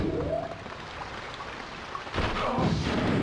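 Steady rain in the rainy opening level of the video game Daikatana, a continuous hiss of falling water that swells louder for the last second, with no talking.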